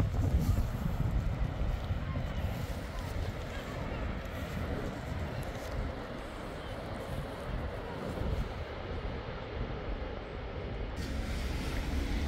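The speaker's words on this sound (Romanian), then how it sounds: "Bate vântul." Wind blows hard at a beach and buffets the microphone, giving a continuous low rumbling roar with gusty surges throughout.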